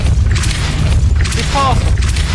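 A Depulso force spell being cast in Hogwarts Legacy lands as a heavy booming thud over dense, continuous game noise, with a brief magical shimmer near the end of the short burst.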